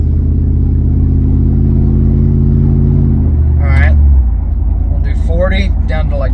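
Bagged Harley-Davidson edition Ford F-150 pickup accelerating to bed in new brake pads: a loud, droning engine rumble heard from inside the cab that shifts pitch midway, with people talking over it near the end.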